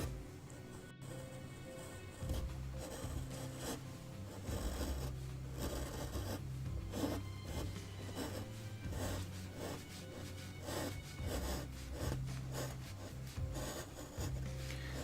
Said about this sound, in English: I'm going to use a chisel to do, but I'll use the U chisel to do that